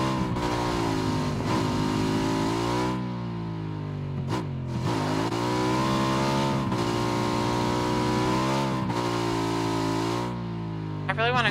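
Motorcycle engine in the video game PUBG, revving and shifting pitch continuously through the whole stretch, loud and close, with a voice talking over it at times.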